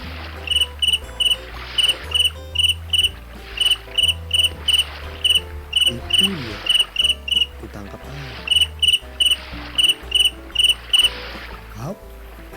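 Grasshopper chirping in regular pulsed bursts, loud and close, over soft background music, with a brief spoken line partway through.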